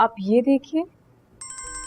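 A mobile phone ringtone starts abruptly after a brief spoken line, a bright, sustained electronic ring continuing near and loud.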